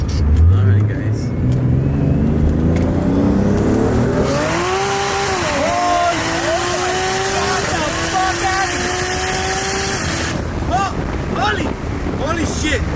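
800 HP big-turbo 2JZ Lexus SC300 with BMW DCT launching hard, a loud strained engine note climbing through the revs under wind buffeting, with excited voices throughout.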